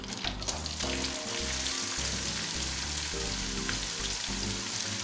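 Melted butter, onions and lamb for a Caribbean lamb pelau fry in a pot, giving a loud, steady, close sizzle over a low tonal hum.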